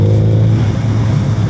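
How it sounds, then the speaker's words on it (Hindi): A Suzuki Hayabusa motorcycle fitted with an Akrapovic exhaust sends out a loud, close, deep engine roar that holds steady for a moment and then roughens into a throaty burble. "I just love the exhaust."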